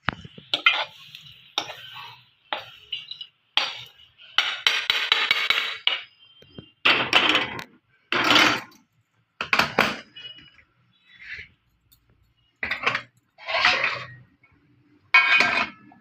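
Crispy fried masala scooped from a pan onto a plate, a series of separate scraping and clinking strokes of a spoon against metal, close and fairly loud, spaced by short silences.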